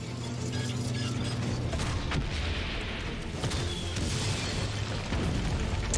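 A munitions depot packed with dynamite blows up in Valiant Hearts: The Great War, deep booms and crackling blasts over a dense, continuous battlefield rumble with mechanical clanks.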